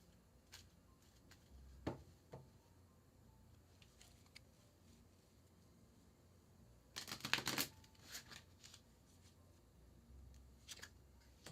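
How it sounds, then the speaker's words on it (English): A deck of French suited playing cards shuffled eight times: soft, scattered riffles and taps close by in a quiet room, with one louder burst of shuffling partway through. "so I'm shuffling these 8 times."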